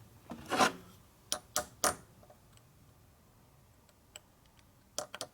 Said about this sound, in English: So we're going to try taking a chisel and trying to rotate this